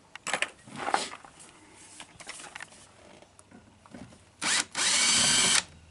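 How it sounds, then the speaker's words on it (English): Electric drill backing out the door panel screws on a Mercedes-Benz W114, heard in two close bursts after quieter handling and tapping, the second burst sustained for about a second. "Now I'm using an electric drill here."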